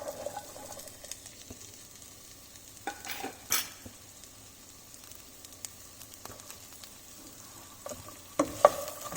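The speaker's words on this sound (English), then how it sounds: "Now I'm going to stir this well until the carrots are cooked." Carrots, ginger, red and green chilies and curry leaves fry softly in a pan, a faint steady sizzle with a few scraping stirs and clinks of the spoon against the pan, and no talking.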